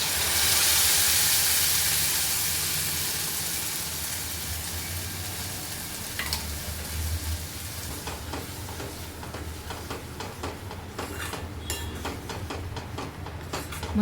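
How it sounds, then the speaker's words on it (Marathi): Ground masala paste sizzling in hot oil with onion and curry leaves for aloo methi matar, a loud steady hiss at first that settles into softer frying crackle with spoon stirring and scraping, close up. "मसाला चांगला फ्राय करून घेऊया."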